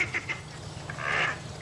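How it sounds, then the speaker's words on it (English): Ducks quack a few times at a zoo pond on a cold day in Montgomery, short calls near the start and a louder burst toward the end over low steady background rumble. "The ducks spent the afternoon swimming in the pond, the one that wasn't iced over."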